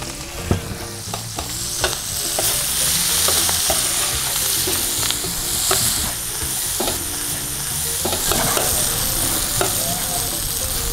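Onions, leeks and garlic sauté in a pan for a sausage and seafood paella, a steady close sizzle with occasional stirring scrapes throughout and no talking.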